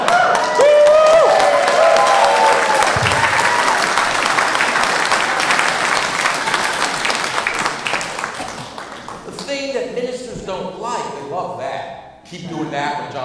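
A crowd at a talk applauds heavily, a thick, loud wash of clapping with some cheering that gradually thins out over about nine seconds before a speaker's voice takes over.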